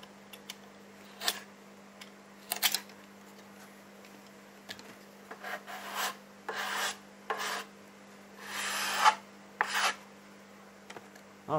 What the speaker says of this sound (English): any excess you can trim off with the knife